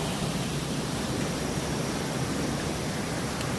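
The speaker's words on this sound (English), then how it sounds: "Get away from this white noise." Water rushes in a stream through Pennsylvania woods on a morning hike, a constant dense hiss of flow filling the whole moment, near and steady with no voices.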